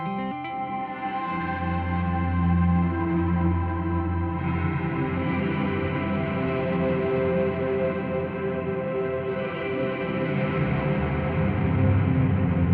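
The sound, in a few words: Walrus Audio Qi Etherealizer guitar pedal with reverb maxed out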